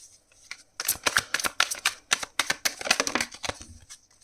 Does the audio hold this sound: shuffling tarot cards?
yes